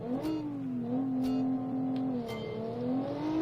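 A turbocharged iron-block 3.8 liter V6 in a rear-wheel-drive car of about 230 horsepower, simulated in BeamNG.Drive on a gravel hillclimb, holds a steady droning rev with slight pitch rises and dips, close and continuous, with a few brief sharp clicks.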